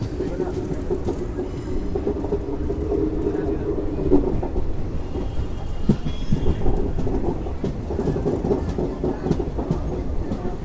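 A special train from Cherlapalli to Tirupati pulls out of Gudur station, a steady rumble and rattle of carriages heard from on board, with a voice speaking over the continuous noise.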